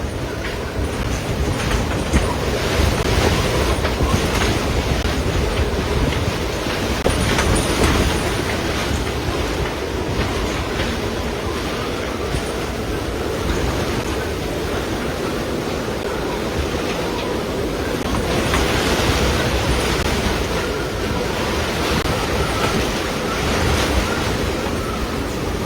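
On an Elan 444 sailboat off Croatia, wind of about 50 knots and crashing waves make a loud, continuous roar that buffets the microphone, with surges of heavier surf and no voices.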